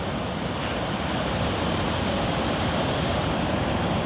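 Ocean surf rolling in on an incoming tide at Short Beach near Cape Meares, Oregon, a loud, steady wash of breaking waves with wind noise, no voices.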